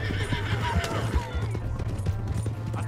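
A horse neighs and whinnies in Red Dead Redemption 2, with hoof clip-clops and busy game noise around it, heard close and fairly loud through the whole stretch.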